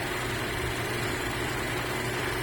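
A 2017 Buick Regal engine idling in park on level ground, a low, steady hum continuing at moderate distance, with no other sounds over it.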